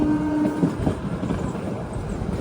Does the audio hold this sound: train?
yes